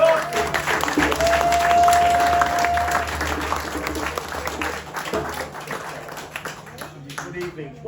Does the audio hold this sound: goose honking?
no